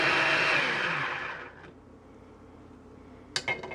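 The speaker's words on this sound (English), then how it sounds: "we're going to grind this up just for maybe 30 seconds" A kitchen blender whirs loudly, grinding fresh tomato and cucumber salad, then stops abruptly after about a second and a half, leaving near silence before a few brief clinks of dishes.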